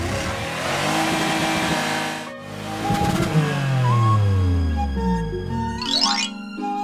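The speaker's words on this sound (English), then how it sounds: "Police monster truck." A cartoon police monster truck engine roars and revs, climbing and falling in pitch with a squealing accent near the end, loud and close with no voices.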